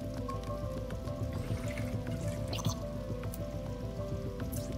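Water trickles and drips steadily from a hole-riddled aquarium in the Bright Paw video game, with a constant splashing flow beneath a low ambient hum and scattered droplet plinks.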